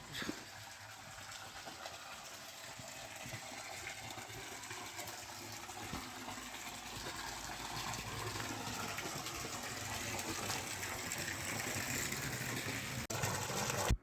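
A steady, continuous stream of water flows outdoors at the Shukacharya temple in Tadachiwadi near Khanapur, Sangli, a year-round flow heard as an even broadband rush that swells slightly toward the end, with no voices.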